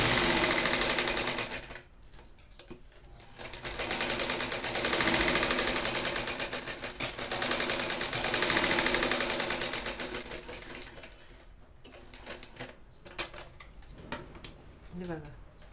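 A sewing machine stitches the back neck side of a blouse, a close rapid mechanical chatter in long runs that pause and restart, with a voice talking at times.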